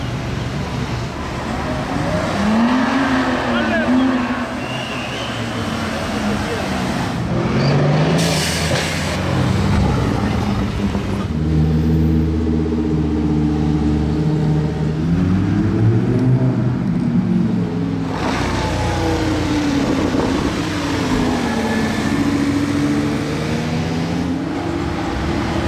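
Ferrari cars cross and pass on a road, engines rising and falling in pitch as they approach and recede, loud and close, with a strong revving stretch in the middle.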